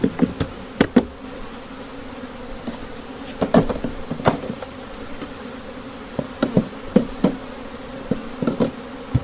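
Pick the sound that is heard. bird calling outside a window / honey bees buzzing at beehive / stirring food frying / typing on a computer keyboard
honey bees buzzing at beehive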